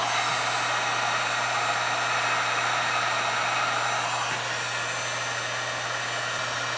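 A heat gun runs with a steady, moderate blowing hum while melting solder and shrinking heat-shrink tubing over a wire joint during a custom dash wiring job on a Suzuki DR650.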